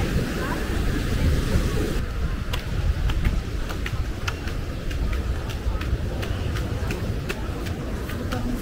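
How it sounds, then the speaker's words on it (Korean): Ocean waves break on a sandy beach in Mallorca, a loud, continuous surf rumble with gusting wind buffeting the microphone up close. "파도가 장난 아닙니다"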